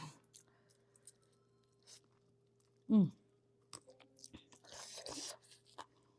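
Wet chewing and biting on spicy chicken feet in sambal, close to the mic, in a home mukbang; soft scattered crunches and squishes with one louder bite near the middle, plus faint background noise.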